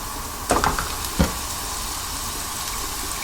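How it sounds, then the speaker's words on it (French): Black pudding meat and a minced shallot fry in a pan, sizzling steadily with a couple of louder scraping, stirring bursts early on, then settling into an even hiss. "Dans une poêle, j'ai mis une échalote ciselée à suer. Je vais y mettre la chair des boudins"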